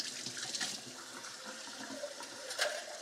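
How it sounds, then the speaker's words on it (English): Water from a running tap splashes as something is rinsed under it in a home kitchen, a fairly quiet, steady hiss with a few brief spatters and no talk. "Give this a little rinse."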